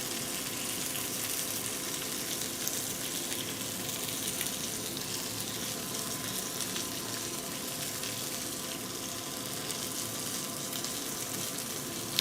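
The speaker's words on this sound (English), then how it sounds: "Let's use this opportunity to make the caramelized onions" Onions frying in a pan on their way to caramelizing, giving a low, even sizzle that holds steady and fairly quiet with no talking over it.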